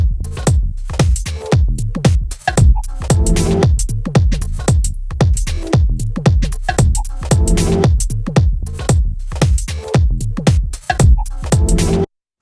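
A techno track built from Apple Loops in Logic Pro pounds out dense, driving beats, with punchy kicks and clicky percussion in a fast steady pattern, loud throughout and cutting off abruptly at the end.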